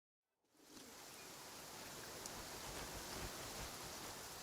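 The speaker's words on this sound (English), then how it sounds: "Is that rain intentional?" Steady, dense rainfall from the video game Genshin Impact sets in after a brief silence and then holds as an even, close wash of falling rain with no talking.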